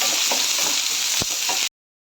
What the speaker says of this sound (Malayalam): നമ്മൾ അരിഞ്ഞു വെച്ച സവാള ആഡ് ചെയ്ത് കൊടുക്കണം